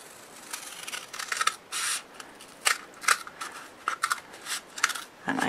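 Scissors snipping through paper while making a pencil box, a run of short close cuts in uneven bursts with brief pauses between strokes, no talking.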